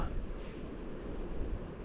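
Strong wind with snow starting, buffeting the microphone during spring salmon fishing, a dense, roaring low rumble that stays constant throughout.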